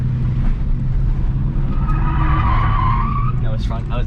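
Ford AU Falcon on semi-slick tires drifting at a drift park, with steady engine drone and a rising tire squeal through the middle, close and loud inside the car.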